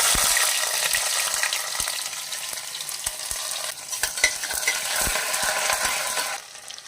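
Shallots are dropped into hot sesame-oil tempering with mustard, fenugreek and cumin for sambar rice, giving a loud, dense sizzle with scattered pops and utensil clicks that fades off abruptly at the end.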